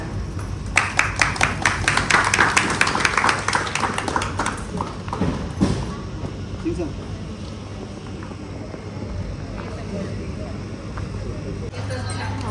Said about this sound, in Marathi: एकदा जोरदार टाळ्या होऊ दे.